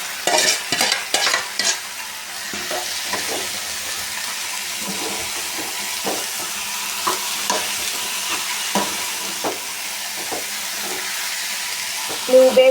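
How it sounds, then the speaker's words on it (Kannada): Greens and lentils going into onions frying in a pan for a Mandya-style soppu saaru, with a few clattering stirs at the start and then a loud, steady close sizzle broken by occasional scrapes. "ಈರುಳ್ಳಿ ಫ್ರೈ ಆಗಿದೆ ಈಗ ಸೊಪ್ಪು ಕಾಳು ನಾನು ಸೋರೋದಕ್ಕೆ ಹಾಕಿದೆ ಅದನ್ನು ಹಾಕೋತಾ ಇದ್ದೀನಿ"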